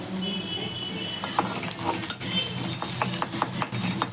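Fresh ginger paste stirred into a spicy Telangana-style chicken liver fry, with a spoon scraping and clinking against the pan over a low steady sizzle, close and continuous, with no talking.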